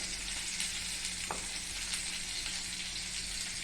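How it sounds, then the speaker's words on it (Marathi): Brinjal with masala sautés in a pan with a low, continuous sizzle and one brief scrape of a spoon partway through, close and quiet with no talking. "हे परतून जरा घ्यायचं"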